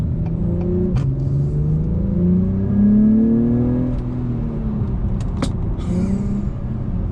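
An Acura TLX Type S engine roars and revs up with rising pitch, loud and close, with a few sharp clicks and knocks along the way.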